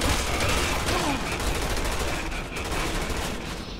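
Enemy gunfire aimed at the player in Resident Evil 6, dense overlapping automatic bursts that form a loud, continuous barrage, close and harsh throughout, with no talk.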